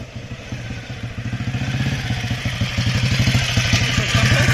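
A Junak motorcycle rides along during a suspension test, its engine chugging in a steady, rapid thumping rhythm that grows slightly louder throughout, with a rough, clattering mechanical texture.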